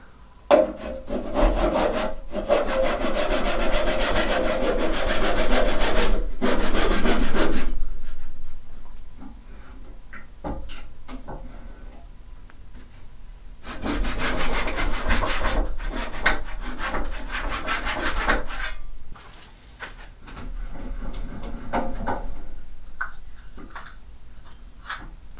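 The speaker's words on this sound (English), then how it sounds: "just use a handsaw to finish cutting that little bit that I left" Handsaw cutting through a wooden turned box still mounted on a lathe, close rhythmic rasping strokes in several bursts separated by short pauses, with no talk.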